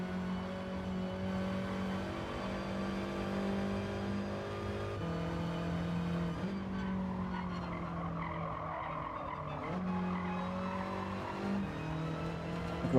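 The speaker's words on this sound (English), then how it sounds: "hard to catch Heisel out front in the Golf, which is a very, very, very quick car." Race car lapping a circuit in the video game Gran Turismo 7, chasing a quick Golf ahead: a steady engine drone whose pitch rises through the gears and drops at shifts, with tyre squeal and skids running continuously throughout.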